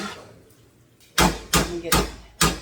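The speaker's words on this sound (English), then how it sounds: "I just want to get all that off my spoon." A cooking spoon is rapped against the rim of a pan several times to knock off red wine reduction sauce, giving four loud, sharp, close knocks in an uneven rhythm after a quiet stretch.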